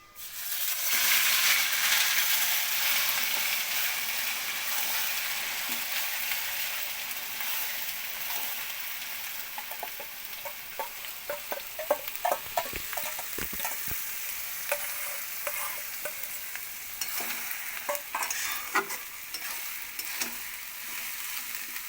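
A spice paste drops into a hot pan with a loud burst of sizzling that settles into steady frying. Scraping stirs and clatters of a spatula then come through repeatedly as the paste cooks.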